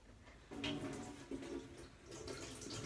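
A teaspoon gets rinsed under a running kitchen tap: a steady stream of splashing water surges up after a brief quiet start, then keeps flowing close by with small shifts as the spoon moves through it, with no talking.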